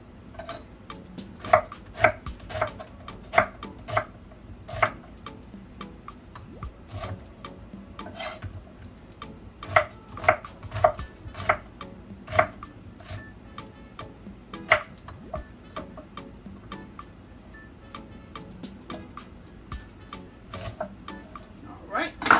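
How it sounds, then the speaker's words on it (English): A knife repeatedly chops peppers into chunks on a board, producing sharp irregular taps with scattered bursts of quicker strokes over a low kitchen background. "For my peppers, however, I will be cutting those into chunks"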